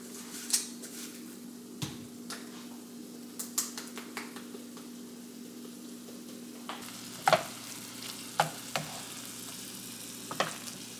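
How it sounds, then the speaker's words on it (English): Meat sizzles quietly in a pan as it is chopped and stirred, a soft steady frying hiss punctuated by scattered sharp clicks and scrapes of a utensil against the pan. "you really just have to make sure that you keep chopping it and stirring it"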